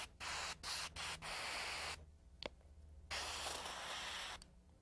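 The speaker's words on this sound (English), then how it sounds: "Now I'm going to load up with white paint and spray the edge." An airbrush sprays white paint onto the edge of a fingernail in short hissing bursts separated by pauses, close and soft.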